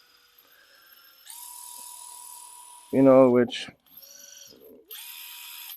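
A drill with a quick-change bit holder spins up to a steady high-pitched whine, stops, then restarts, running close by. Someone talks briefly over it partway through.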